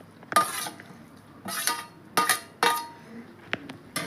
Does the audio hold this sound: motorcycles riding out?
no